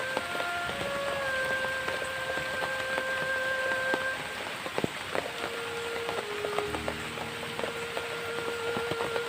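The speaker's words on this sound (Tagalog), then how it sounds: "Sobrang biglang lumakas yung ulan guys." Steady, dense heavy rainfall that has suddenly intensified, hissing loudly without pause, with faint tonal whines and a few sharp knocks in the background.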